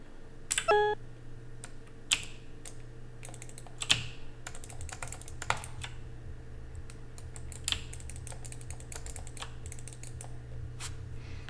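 Scattered computer keyboard key presses click sharply and sparsely, several isolated taps spread across a steady low hum, close and fairly distinct.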